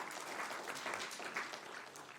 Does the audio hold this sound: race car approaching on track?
no